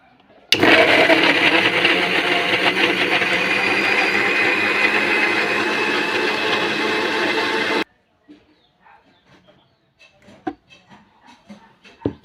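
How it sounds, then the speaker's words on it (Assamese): An electric blender purées tomatoes into paste, a loud steady whirring roar for about seven seconds that cuts off abruptly, followed by faint clicks and handling noises. "সেইটোতে আকৌ বিলাহী ব্লেণ্ড কৰি ল'ম।"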